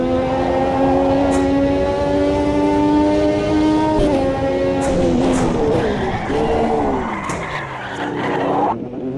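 Formula 1 car engine in a racing simulator video game, a loud, sustained high-pitched whine that rises and shifts with gear changes, then breaks into skidding and erratic revs near the end.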